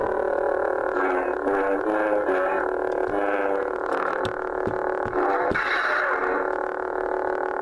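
A loud electronic hum with wavering, buzzing tones and sharp crackling swells from a Graflex 2.0 lightsaber prop with a blue blade, humming and swinging, continuous throughout.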